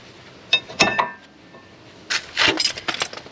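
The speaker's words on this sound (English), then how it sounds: "Take the brake pads off." Rear brake pads come off the caliper of a 2013 Honda Civic with a few sharp metallic clinks and scraping knocks, close by, in two short bursts separated by a quiet pause.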